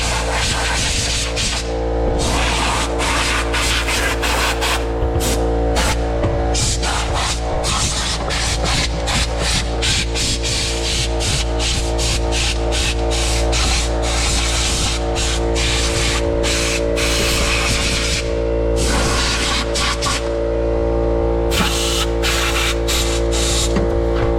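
Compressed air blasts debris out of a Polaris Sportsman ATV during maintenance, a loud continuous hissing rush with short breaks and pulsing gusts, close to the microphone, over a steady engine-like hum, no talk.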